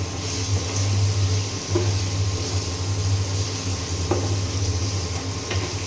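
Drumstick pieces and potatoes sautéing with mustard paste in a pan, with a steady close sizzle and stirring scrapes, plus a few soft utensil knocks against the pot, no voices.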